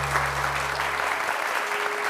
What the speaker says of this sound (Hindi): बहुत सारी तालियां, बहुत सारी।